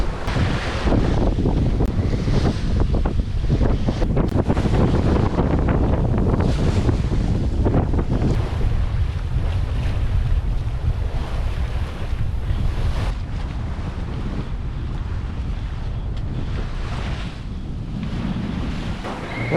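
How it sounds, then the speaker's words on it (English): Steady south wind over the sea aboard a sailboat in the Swedish archipelago: a loud, continuous rush of wind buffeting the microphone, with water washing along the hull beneath it and no voices. "The wind is still on, coming from south. Really good wind."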